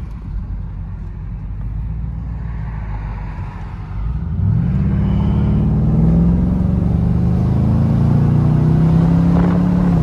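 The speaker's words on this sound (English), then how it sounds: "Listen to that turbo V8." A Porsche Cayenne Turbo S twin-turbo V8 idles low, then revs up partway through into a deep, loud rumble that climbs steadily in pitch.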